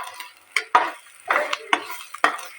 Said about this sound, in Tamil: இது எல்லாத்தையும் நல்லா ஒரு மிக்ஸ் பண்ணிக்கலாம்.